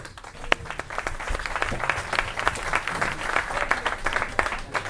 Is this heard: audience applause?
yes